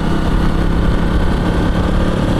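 A KTM motorcycle cruises along the road on a long tour, its engine droning loud and steady with heavy wind rush throughout, no voices over it.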